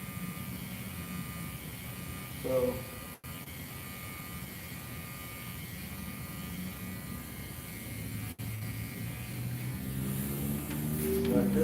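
Cordless hair clippers buzz steadily and closely while cutting a temp fade, a continuous electric hum with brief interruptions and a little talk.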